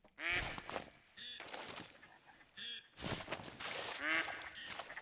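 Ducks quack in a lakeside hunting setting, several loud harsh calls in quick bursts, close and repeated.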